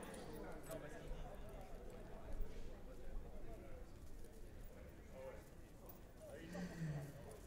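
A large crossbred stallion walks at a horse show, hooves clip-clopping faintly and unevenly on the ground, with background murmur and a bird call near the end.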